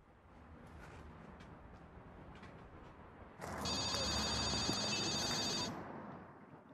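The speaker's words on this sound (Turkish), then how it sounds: "O'shandan beri telefonlar tinmayapti." An electronic telephone ringtone sounds midway through a quiet indoor scene in a Turkish drama, ringing steadily for about two seconds over low background hiss before stopping; no one speaks.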